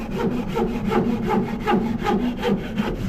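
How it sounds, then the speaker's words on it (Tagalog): A hand saw cuts through wood during house construction, steady rhythmic back-and-forth strokes, close and loud, repeating about every half second with no talk. "Naglalagari na."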